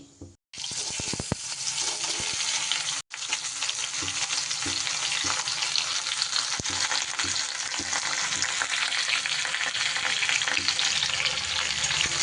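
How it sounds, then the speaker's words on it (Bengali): Orange segments drop into hot oil with whole five-spice tempering, a sharp burst then a strong, steady sizzle of frying that carries on with occasional stirring clicks. "ফোড়নটা সুন্দর করে ভাজা হয়ে গেলে এইবার আমি কমলা লেবুগুলো দিয়ে দেব এর উপরে।"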